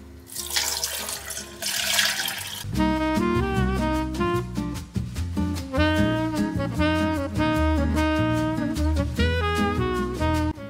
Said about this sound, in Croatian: Dodajem dve šalje vode.